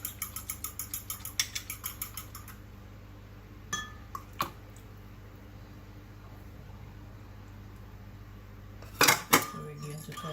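A utensil rapidly taps a bowl while whisking milk, vanilla, melted butter and eggs: a quick, even run of clinks for about two seconds, then a few scattered knocks over a steady low hum.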